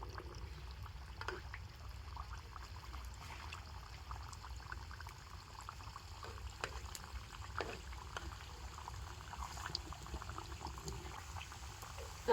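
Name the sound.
sweets frying in oil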